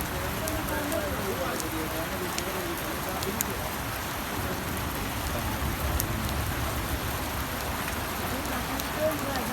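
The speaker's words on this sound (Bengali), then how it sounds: "আল্লাহর রহমতের বৃষ্টি আল্লাহ আমাদের উপর খুশিয়া বৃষ্টি দিয়েছে" Steady rain falls in Pangsha, Rajbari, a dense even hiss with scattered sharp drips on a surface, continuous and fairly loud throughout.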